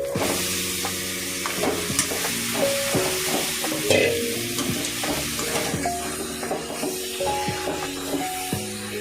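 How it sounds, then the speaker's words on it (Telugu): Marinated chicken for a chicken curry goes into hot oil with fried ginger-garlic paste and sizzles steadily while being stirred, with scraping strokes throughout and a faint tonal hum running underneath. "ఇప్పుడు ముందుగా మ్యారినేట్ చేసుకున్నాం కదా చికెన్, ఇందులో వేసుకుంటాం."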